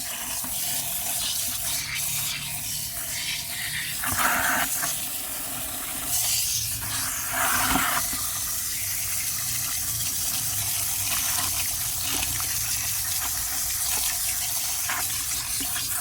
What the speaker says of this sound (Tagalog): Hugasan na natin para matanggal yung lupa.